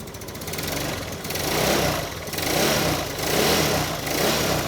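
Yamaha Mio scooter engine with a stock stainless exhaust header, revved several times in a row, each throttle blip swelling the buzzy exhaust note before it falls back to idle, heard close with no talk.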